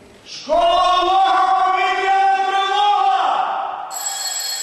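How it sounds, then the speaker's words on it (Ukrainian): A long school alarm bell rings loudly and steadily for an emergency evacuation drill, cutting in sharply and holding for about three seconds before giving way to a higher electronic tone. "За командою вчителя предмету захист вітчизни пролунав довгий тривожний дзвінок."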